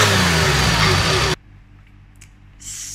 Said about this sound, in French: Allez hop, on démarre une DeLorean.